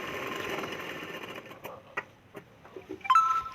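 A domestic sewing machine stitching a katori blouse, running in a steady fast whirring hum with light mechanical ticking, fairly close but quiet, ending with a few clicks and a brief high tone.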